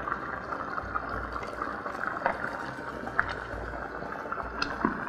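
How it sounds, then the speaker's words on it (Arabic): Tomato soup with vegetables and pasta bubbles in a pot, a soft steady simmer of liquid with small irregular pops and drips, fairly quiet and with no talking. "والشوربة كمان خلاص غليت والمكرونة تقريبا كده استوت"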